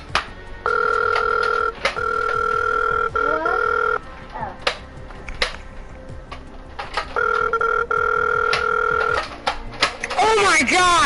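Phone call ringing out over a loud speakerphone, two long bursts of repeated ring tones with a pause between, while people talk over and around it.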